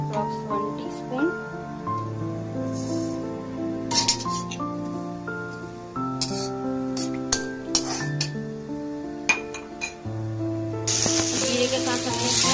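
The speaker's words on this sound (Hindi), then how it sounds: "तेल में जीरा डाल देते हैं, अप्रॉक्स 1 टीस्पून।" Cumin seeds crackle and hiss in hot oil in a kadhai under steady music, with light clinks of utensils and a louder sizzling burst near the end.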